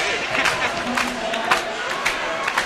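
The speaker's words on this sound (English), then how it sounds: "this crowd has been quite frenzied here tonight" A college hockey crowd in an arena sends up a frenzied roar of cheering and clapping during a Colorado State versus Colorado game, with sharp bursts rising above the steady wash of noise.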